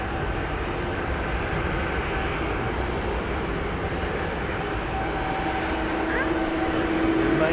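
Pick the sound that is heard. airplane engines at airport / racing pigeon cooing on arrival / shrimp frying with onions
airplane engines at airport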